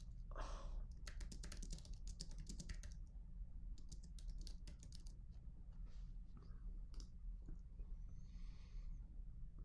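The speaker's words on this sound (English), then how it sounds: "let me type it out" Rapid clicking keystrokes on a computer keyboard, faint and close, coming in quick bursts with short pauses against a low steady hum.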